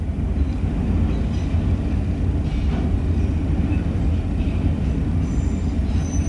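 An eastbound freight train rolls steadily past at close range, a mixed consist with a mid-train DPU locomotive and stack cars, its low continuous rumble and wheel noise loud and unbroken throughout with faint squeals above.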